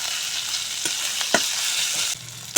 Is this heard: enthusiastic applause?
no